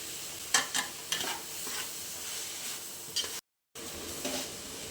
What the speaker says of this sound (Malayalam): നല്ലതുപോലെ ഒന്ന് മിക്സ് ചെയ്ത് കൊടുക്കാം ഒരു സ്പൂണും കൂടെ നെയ്യ് ചേർത്ത് കൊടുക്കാം